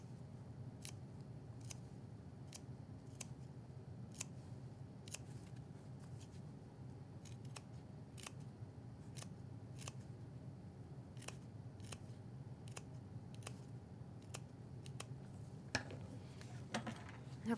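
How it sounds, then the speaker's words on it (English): Scissors notching V-shaped cuts into the curved seam allowance of a fabric shoulder strap pad, crisp snips in a steady, fairly even rhythm, about one per second, close and clear over a quiet room hum. "now I'm going to notch the curved edges, and that just means cutting a V within the seam allowance"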